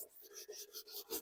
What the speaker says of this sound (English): I'm just going to take some 220 sandpaper and I'm just going to start just scuffy sanding it